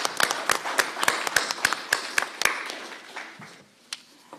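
Audience at a community town hall claps in a loose burst of individual hand claps that thins out and fades over a few seconds, fairly close.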